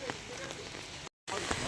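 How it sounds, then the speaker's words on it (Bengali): Heavy rain pours outside along a road by a temple in Chakdaha, a steady, dense hiss of downpour with a brief moment of total silence partway through. "এই যে এইদিকে প্রচণ্ড বৃষ্টি হচ্ছে বাইরে"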